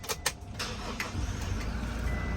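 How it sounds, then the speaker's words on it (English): A Toyota Hiace Commuter van, a 2022 Majesty Grandvia luxury VIP edition, has its engine started: sharp mechanical onsets at the start, then a steady low idle rumble close by, with no talking. "You need to start the engine first."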